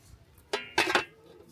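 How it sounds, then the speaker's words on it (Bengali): A metal lid set onto a pot of whole olives simmering on a medium flame, giving two or three short close metallic clanks and clinks with quiet gaps between them. "এখন আমি চুলার আঁচটা মিডিয়ামে রেখে ঢাকনা দিয়ে ঢেকে দিব।"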